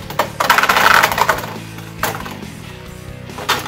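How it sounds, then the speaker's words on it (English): A Beyblade Burst top is launched into a stadium, clattering and rattling loudly with metallic, coin-like scraping as it spins, followed by a few sharp knocks against the stadium wall. "I'm using my blue launcher now. 3, 2, 1, let it rip!"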